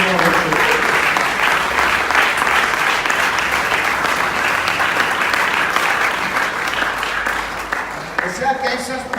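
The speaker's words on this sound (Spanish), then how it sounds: "Un aplauso para el Señor Jesús." A church congregation gives loud, continuous applause during a sermon; the dense clapping fills the room and thins slightly toward the end.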